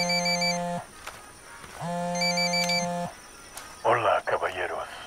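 A phone rings in the video game Ghost Recon Wildlands, two long electronic trilling rings repeating clearly, followed by a brief burst of a voice talking.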